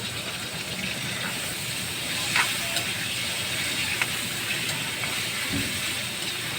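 Food frying in a pan while cooking during travel, a steady broadband sizzle and hiss running continuously at close range, with a few faint clicks and no clear talk over it.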